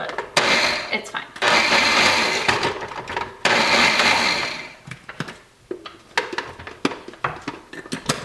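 Cauliflower being grated into rice in a food processor: two loud, rattling bursts of motor noise, each a couple of seconds long, followed by sputtering stops and bits of chopping as a person talks nearby.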